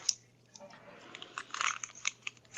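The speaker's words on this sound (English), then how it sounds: "Someone is crunching their life away right now." Someone crunching while eating what seems to be an almond candy bar, a scatter of close, irregular crunchy bites and chews growing busier toward the end over a faint low hum.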